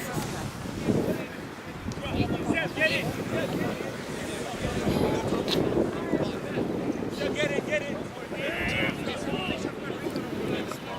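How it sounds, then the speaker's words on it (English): Gusty wind buffets the microphone at an outdoor elite youth soccer match, a steady broadband rumble running under nearly continuous commentary and talk. "Now it's getting windy."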